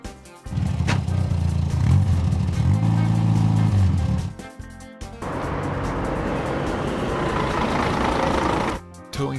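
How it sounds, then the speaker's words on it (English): Animated pole truck driving with a loud, close engine that revs up and holds, drops briefly, then turns into a rushing, noisy roar before cutting off. "Pole truck."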